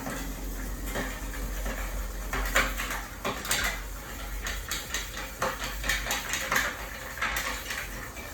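Ice clinks and rattles in a glass while a cocktail, a citrus-free sour, is stirred. Irregular bright knocks and clatters sound close and moderately loud.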